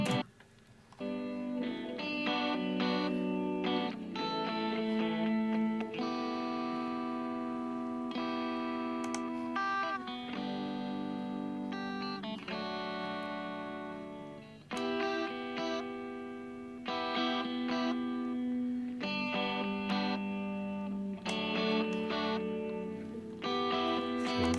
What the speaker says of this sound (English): Let's set up a dedicated reverb channel. Revelation is a stock plugin which comes with Cubase.